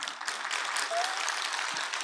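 An audience at a revival sermon gathering claps briefly, a soft, even patter of many hands heard at a moderate distance in a large hall.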